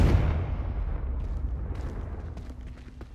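A Confringo fire spell blasts in the Hogwarts Legacy video game: a single loud, close explosion that starts at full force and fades into a low rumbling decay over about three seconds.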